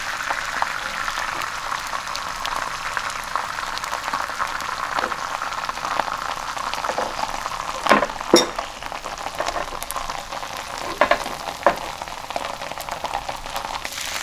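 Thin batter cooking in a pan gives a steady, dense, rain-like sizzle throughout, with a few brief crackles and small scrapes. The sound is close and even, and no one speaks.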